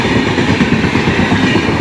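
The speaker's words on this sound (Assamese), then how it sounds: "আমি ৱেইট কৰি থকা ট্ৰেইনখন আহি পালে এতিয়া" A passenger train pulls into a station, its heavy wheels and carriages rumbling steadily and loudly at close range for the whole stretch, with no voices over it.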